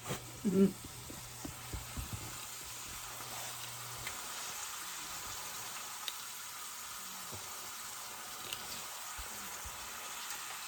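Chicken livers fry in a pan with a steady, soft sizzle that runs throughout, and a few clatters near the start.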